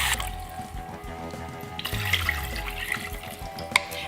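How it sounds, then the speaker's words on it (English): Two cups of water poured into a pot of jambalaya, a running, splashing stream of liquid lasting several seconds, close and clear with no talking. "Now I'm also going to add 2 cups of water into this."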